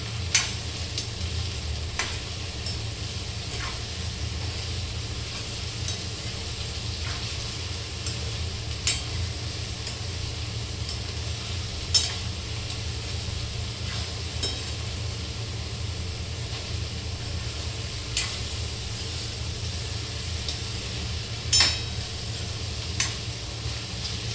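Ridge gourd vegetable is stirred and mixed as it fries in a pan. A steady sizzle runs throughout, with soft periodic scrapes and clicks from the spoon and no talking.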